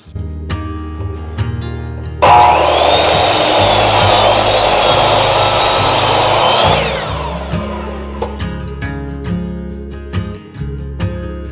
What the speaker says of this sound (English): We're going to cut them down to about 50 inches.